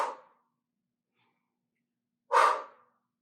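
Two short, breathy exhales during a seated core chop exercise, one right at the start and one a couple of seconds later, close and clear, with silence between them.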